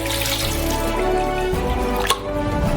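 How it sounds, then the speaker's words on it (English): Water runs from a tap into a saucepan being filled for boiling potatoes, a steady splashing stream up close with a brief louder splash near the end. "Therefore, we fill it up with water"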